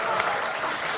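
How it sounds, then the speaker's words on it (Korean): Brief, dense applause from an audience at a political party event announcing primary election results, a steady wash of clapping throughout. "박수 한번 보내주시기 바랍니다"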